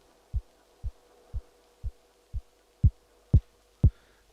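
Electronic kick drum from a dub techno track, eight deep evenly spaced thumps about half a second apart, the last three louder, with a faint hum beneath.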